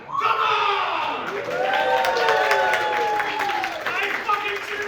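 A comedy club audience in St. Catharines cheering, whooping and shouting loudly, with sustained yells and some clapping that fill the room.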